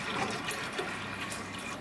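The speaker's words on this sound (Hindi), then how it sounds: "इसके अंदर हम डाल देंगे पानी" Water poured into a cooking pot, a deg, while making Himachal-style maa ki dal, a continuous splashing, gurgling rush close by and fairly loud, with no talking.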